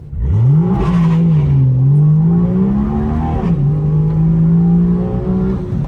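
A BMW M2 F87 engine at full throttle while losing power gives a loud, droning rev that climbs, sags slightly and holds at a strained level with a brief dip midway, close and continuous.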